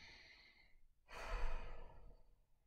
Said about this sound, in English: Breathing in and out can be a great way to relieve stress.